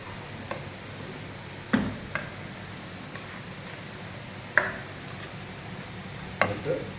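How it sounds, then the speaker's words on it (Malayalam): A spoon stirs pumpkin erissery curry in a pan, giving a few quiet, scattered scraping knocks over a faint sizzle, spaced a second or two apart. "ഒന്ന് ഇളക്കി കൊടുക്കുക"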